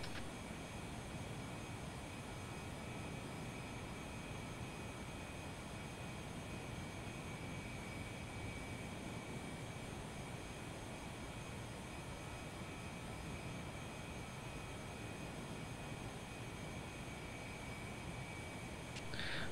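An aircraft flies over near an airport, heard as a continuous, even jet engine roar that holds steady and fairly faint the whole time, with no voices.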